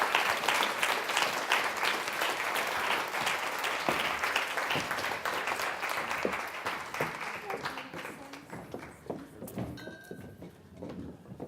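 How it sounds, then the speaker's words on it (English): Loud audience applause welcomes a panel onto the stage at a business summit for coaches, dense clapping that gradually thins out over about eleven seconds, with scattered chatter near the end. "We have a big round of applause."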